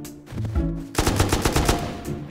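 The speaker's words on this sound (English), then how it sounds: "Whoa, that's an M249." An M249 machine gun fires in the video game Rust, with a rapid, loud burst of rattling shots starting about a second in after a brief quieter gunshot, all without talk.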